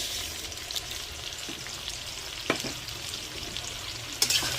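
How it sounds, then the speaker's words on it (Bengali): Mung dal frying in oil in a kadai that already holds lightly browned cauliflower and potato, giving a steady close hiss with a few soft scrapes and clicks of stirring. "এখন আমি মুগ ডালগুলো দিয়ে দেবো কড়াইতে।"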